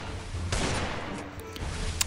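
A toy pistol fires rapid electronic gunfire sound effects, a continuous buzzy burst under faint background noise, with a few brief tonal blips toward the end.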